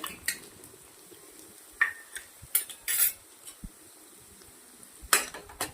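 Chopped onion is dropped into a pan with chilies, ginger and garlic and stirred with a metal spoon, giving a few sharp scrapes and clinks against the pan, spaced apart and fairly quiet, with no talking.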